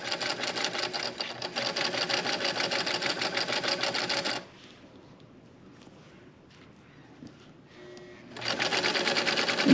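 A sewing machine stitches a heart-shaped prayer pillow, running in a fast steady rattle, pausing for several seconds while the fabric is turned, then starting up again loud and close.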